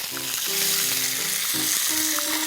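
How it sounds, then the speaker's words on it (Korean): Saury stew with pre-mixed seasoning cooking in a pot, giving a steady close bubbling sizzle with faint clinks over a continuous hiss, no voices. "이렇게 해서 이제 우선 끓일 거예요, 이거를"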